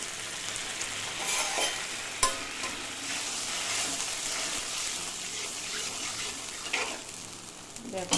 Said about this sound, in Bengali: মশলাটা কষাবো, গ্যাসটা বাড়িয়ে দিয়েছি।